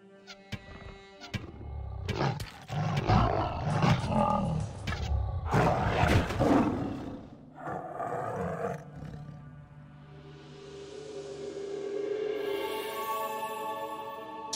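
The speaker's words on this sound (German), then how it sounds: "Nee, ist ein Löwe. Da oben." A lion in the game Gothic 2 lets out roars from up ahead, loud growling bursts in the first half that trail off into rumbling ambient noise.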